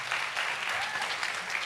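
An audience claps steadily throughout, a dense burst of applause at moderate volume with no talking over it.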